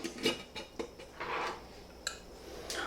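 Honey mustard dressing being stirred in a slightly too-small bowl in a home kitchen: a spoon clinks and scrapes against the bowl in uneven, fairly quiet taps and swirls, close by, with no talking.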